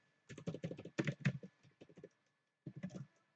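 Rapid clusters of keystrokes on a computer keyboard while entering Python code, crisp and close, pausing briefly before another quick burst of typing.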